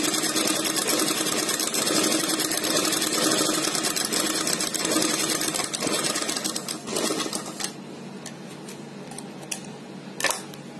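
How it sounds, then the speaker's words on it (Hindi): An electric sewing machine stitches a straight seam, its fast, steady whirring and needle chatter running continuously and close, then easing off with a few short stops and restarts near the end. "ये देखिए, ये हमारी बिल्कुल सीधी सिलाई आ रही है।"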